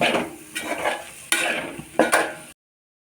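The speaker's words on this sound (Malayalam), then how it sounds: "നന്നായിട്ടൊന്ന് മിക്സ് ചെയ്യാം." Spices for vegetable masala rice get stirred in a pan, with scraping strokes of a spoon against metal over a soft sizzle, heard close up before the sound cuts off abruptly.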